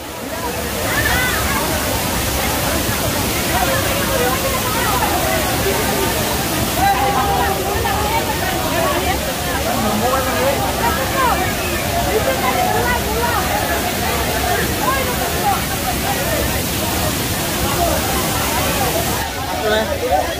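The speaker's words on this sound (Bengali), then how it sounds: "তাই আমরা ছোট ঝর্ণায় এসে পড়েছি।" A small, crowded waterfall in Rangamati, Bangladesh, rushes continuously nearby, a dense steady splashing roar with faint crowd chatter mixed in.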